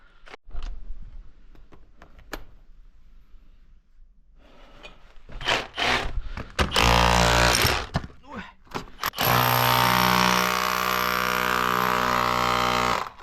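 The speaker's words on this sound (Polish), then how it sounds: "Biorę udar i kończę to." Scattered knocks and scrapes, then a loud cordless hammer drill kicks in with harsh grinding bursts breaking a hard concrete floor, stopping briefly before running steadily near the listener.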